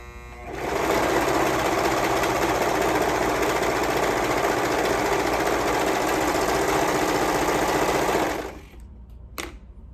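A sewing machine stitches the long raw edges of a fabric sleeve with a continuous fast mechanical whir for about eight seconds, close by, before stopping.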